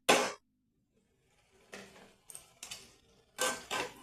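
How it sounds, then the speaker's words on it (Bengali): Cabbage going into a pan with cooked potato: one sharp clatter, then a pause, then a string of short scrapes and knocks as the pieces are stirred, close and fairly loud. "এবার আমি কপিটা দিয়ে দিচ্ছি।"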